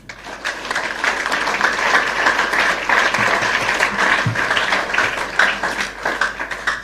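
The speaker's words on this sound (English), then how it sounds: "Clap for yourself." An audience of students at an event in Kintampo clapping, sustained and fairly loud, dense applause with a few thumps underneath that carries steadily and tapers slightly near the end.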